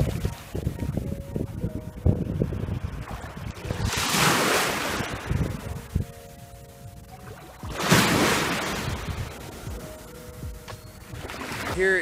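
Waves wash ashore at a private hotel beach in the Philippines while it rains, two distinct rushing surges a few seconds apart over gusty wind noise on the microphone, with faint background voices and hums.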